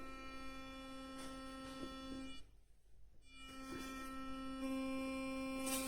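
Philips Sonicare 7100 electric toothbrush buzzing with a steady high-pitched hum, briefly dropping out in the middle before resuming at the same tone, close and continuous.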